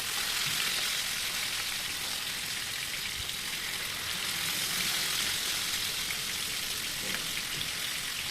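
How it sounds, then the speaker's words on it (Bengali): BBQ chicken pieces frying slowly on low heat, giving an even, continuous crackling sizzle close by that holds steady throughout with no speech. "চুলার আঁচ কমিয়ে রেখে আস্তে আস্তে ভাজতে হবে"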